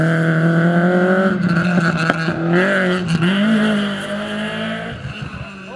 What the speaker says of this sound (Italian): Faccio, arriva la macchina!